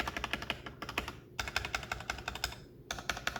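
Fast typing on a stock XVX M61 wireless gaming keyboard with pre-lubed stabilizers produces close, crisp keystroke clatter in bursts, broken by two short pauses, with no speech.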